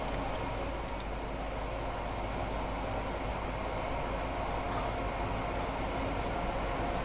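Class 377 electric train in Train Sim 2021 running steadily, a continuous broadband rumble and hum with even loudness throughout, no voices.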